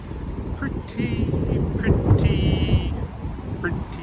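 Gusty wind buffets the microphone outdoors at a riverside lookout near Winston, Oregon, a steady low rumble that swells and eases over a few seconds, with faint higher tones and a voice briefly talking.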